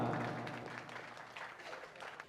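An audience at a mushaira poetry gathering claps together in a broad, dense wash of applause that starts strong and gradually eases off, with no voices on top.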